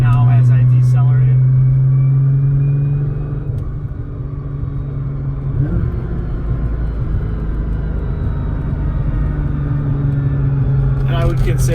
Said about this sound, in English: Maybe you can hear the whining right now as I decelerate.